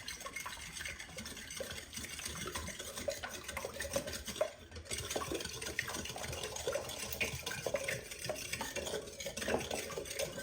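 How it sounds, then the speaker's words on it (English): Oat milk stirred into a dairy-free apple fritter bread batter, with steady wet scraping and sloshing of a utensil against a bowl, close and fairly quiet, continuing without pause. "So I'm just gonna use some oat milk here and get that mixed together."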